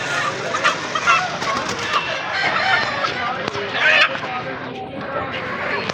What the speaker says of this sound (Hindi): ये अब गाड़ी है मुर्गे की, ठीक है। मुर्गा आपको दिखाता चलूँ